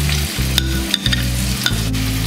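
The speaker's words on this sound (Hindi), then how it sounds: "और तेज आंच पे इसको भून लेंगे" Carrots and potatoes stir-frying on a high flame for a quick vegetable pulao: a loud continuous sizzle broken by a few sharp spoon scrapes and clinks against the pan, with no voices.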